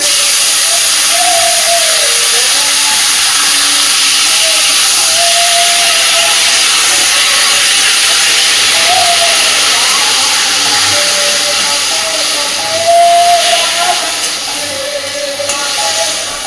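Boiled taro leaves, cooked without salt or turmeric, go into a pan of reddish-fried garlic, giving a loud, continuous sizzle and hiss that holds steady with a faint whine beneath it and a slight swell near the end.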